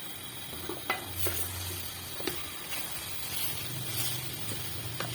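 Grated white radishes fry in plenty of ghee over a medium flame for desi mooli halwa, giving a steady, close sizzle broken by scraping stirs and light clinks of a spoon against the pot.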